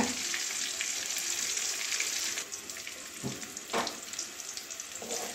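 Pieces of teasel gourd (kakrol) fry in a generous amount of hot oil, giving a steady close sizzle and crackle throughout, with a few brief clinks or stirs partway through.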